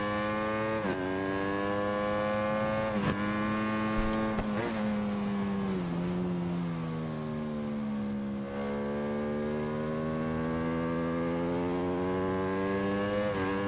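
A Honda VTR1000R motorcycle engine in the racing game RIDE 4 holds a steady, loud rev for the whole stretch, its pitch dipping and rising through gear shifts as the bike takes a corner in second gear.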